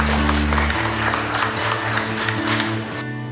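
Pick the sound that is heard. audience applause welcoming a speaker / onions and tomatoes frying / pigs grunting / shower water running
audience applause welcoming a speaker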